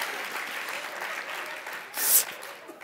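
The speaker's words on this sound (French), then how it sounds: "Pourquoi vous ne m'applaudissez pas?" A studio audience at a Quebec television variety show applauds in a steady, dense clatter of clapping, swelling briefly with a brighter burst near the end.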